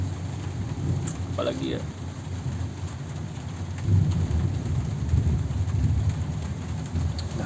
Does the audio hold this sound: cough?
no